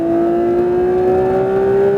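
Porsche 992 GT3 RS pulling hard on a track at Le Mans, a loud, smooth engine tone climbing steadily in pitch as it accelerates through the gear, heard close from inside the car.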